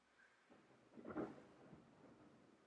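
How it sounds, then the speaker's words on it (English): Distant thunder from a storm rolls in as a low, faint rumble that swells to a peak around the middle, then tails off into a soft, lingering grumble. "Oh, thunder, yay."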